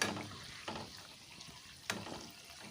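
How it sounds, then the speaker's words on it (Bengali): A tomato and flour mixture is stirred and fried in a pan over a low gas flame, giving a soft continuous sizzle broken by a few spoon scrapes, close but quiet, with no speech. "গ্যাসের ফ্লেমটা এখন লো রেখে দিয়ে একটু বেশ নাড়াচাড়া করে করে আমি এটাকে একটু ভেজে নিই"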